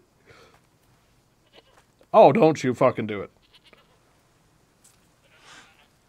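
A goat bleats in the video game Assassin's Creed Odyssey, one loud wavering bleat in the middle of the clip, with someone speaking briefly before it and faint game sounds around it.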